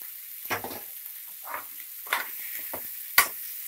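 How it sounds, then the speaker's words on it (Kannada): Tomato with grated fresh coconut and tamarind fries in a pan, with soft sizzling and intermittent stirring scrapes and clatters, plus one sharp clink near the end. "ಇದೊಂದು 30 ಸೆಕೆಂಡ್ ಫ್ರೈ ಮಾಡಿಕೊಂಡ್ರೆ ಸಾಕು."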